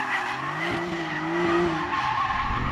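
A Porsche 911 Turbo sliding with its tires skidding, a loud sustained squeal with the engine droning underneath, heard close and steady for a few seconds with no talking.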